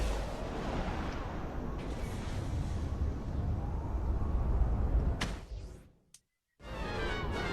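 Heavy, continuous booming blasts and rumbling from the annihilation gun in the video game Saints Row 4, loud and dense for about five seconds, then cutting to a brief silence before the roar resumes.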